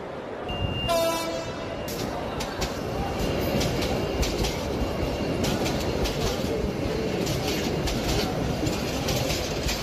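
A cartoon train runs along its tracks with a steady, loud rumble and rhythmic clickety-clack, opening with a short whistle or horn toot before the continuous rolling noise takes over.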